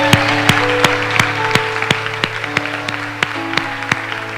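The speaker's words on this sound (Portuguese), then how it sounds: "Vamos aplaudir" Scattered, sparse clapping from a church congregation during a Portuguese sermon, a few distinct hand claps spaced across a steady hum of background tones.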